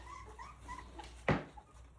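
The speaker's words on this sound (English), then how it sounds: "This one of the puppies' first few times trying Mush" Three-week-old Rottweiler puppies eating mush for one of their first times make soft, close whimpering sounds, then give one louder, brief yelp or thump midway through, over a low steady background.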